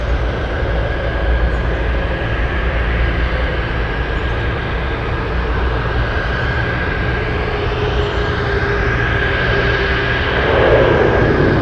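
Boeing 747 FedEx freighter in retro 1973 paint, named Rosie, at Anchorage airport: a loud, steady jet engine roar with a continuous broadband rumble and tonal whine, swelling slightly toward the end, with no talk.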